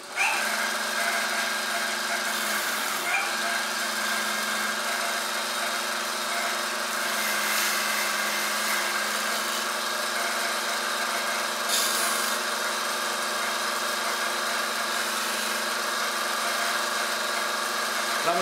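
A Scotch-Brite belt tool polishes and rounds the edge of a metal angle, its motor whining steadily with a constant high buzz and occasional brief scratchy surges of contact.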